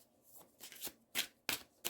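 Tarot cards being shuffled in a few short riffling bursts, quiet and close, with pauses between each pass.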